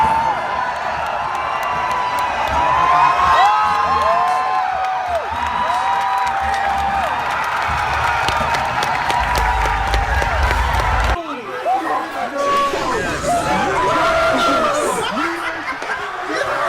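A large crowd at a video game trailer reveal erupts in cheering, whooping and applause, loud and continuous, with excited voices and laughter mixed in.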